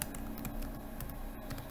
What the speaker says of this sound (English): So just type there in the URL bar,